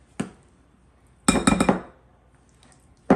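A utensil clinks against a bowl while cornbread salad ingredients are mixed: one sharp knock, then a quick cluster of four clinks, and another knock at the end, with near silence in between.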